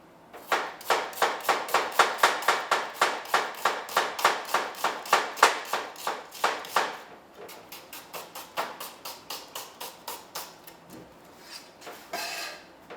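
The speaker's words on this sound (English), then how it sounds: "Make sure you're using the tips of your fingers to kind of guide the knife. Chop the onion over." A kitchen knife chops an onion on a cutting board during prep for a winter bean and halloumi stew, giving a steady run of crisp, evenly spaced close taps that loosen into a sparser, uneven rhythm toward the end.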